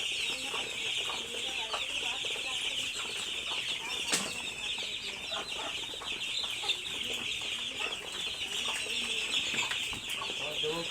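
Grown hens cluck on a rain-soaked village farm, their busy chatter steady and moderately close, with a few wing flaps and a constant hiss of rain running underneath.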